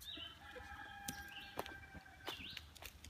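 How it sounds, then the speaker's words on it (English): Faint Cornish cross chickens in a chicken tractor cluck and chirp in the distance, with a few soft peeps and scattered short calls over quiet outdoor background noise. "out in this chicken tractor, we have 15 little Cornish cross"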